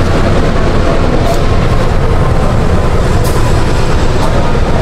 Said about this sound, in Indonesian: Jadi kereta api Jaka Tingkir New Generation ini perdana ya